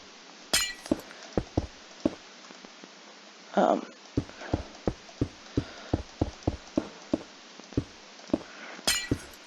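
Glass blocks are placed one after another while building a Minecraft mob farm, producing a run of crisp clinking taps in a quick, fairly regular rhythm, with occasional louder shattering bursts mixed in.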